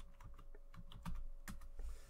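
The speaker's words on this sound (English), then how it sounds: "I will type in Neil Adams" Keys tapping on a computer keyboard as a name is typed, an uneven run of close, light clicks with a few firmer strokes, no voices.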